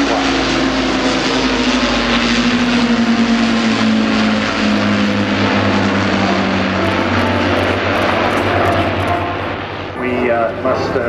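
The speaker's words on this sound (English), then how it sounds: "We colour the Mynarski Memorial Lancaster in honour of a Canadian Victoria Cross" An Avro Lancaster bomber, the Mynarski Memorial aircraft, drones past at a 2014 airshow with a loud, sustained multi-engine propeller roar whose pitch slowly sinks as it passes, under a commentator's voice.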